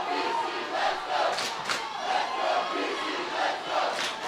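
Soccer fans at a women's college semifinal match between Highline and Peninsula cheer and shout in a steady, swelling crowd roar, with brief louder yells rising above the continuous noise.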